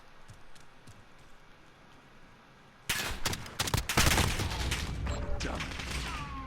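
A 725 shotgun in Call of Duty Modern Warfare fires in quick succession after a quiet start, loud booming blasts packed close together over the last few seconds.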